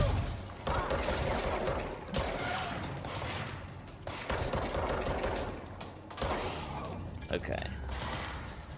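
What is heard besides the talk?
enemy gunfire in video game Control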